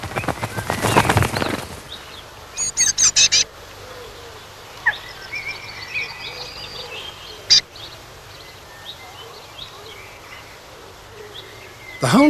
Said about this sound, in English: Mother flies in with one final meal.